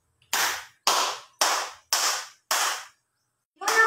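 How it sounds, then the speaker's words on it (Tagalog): Five sharp, evenly spaced claps from a class in unison, each crisp and loud with a brief decay, followed by a short pause and the start of another sound. "Bigyan ng limang palakpak ang iyong mga sarili dahil sa nakinig talaga kayo sa talakayan kahapon."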